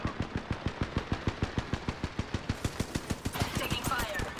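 Rapid automatic gunfire in a shooter video game, a steady string of evenly spaced loud shots about six per second, growing busier and brighter with other effects toward the end.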